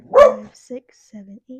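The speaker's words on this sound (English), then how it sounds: "that's my dog" A dog gives one sharp, loud bark close by at the start, then a woman counts aloud in short spoken bursts.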